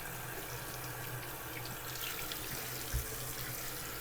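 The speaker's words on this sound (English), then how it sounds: "First thing I'm going to do is I'm going to rinse these off." Fresh produce is rinsed under a running kitchen tap, a steady, soft splash of water into a sink that continues throughout, with one brief thump near the end and no voices.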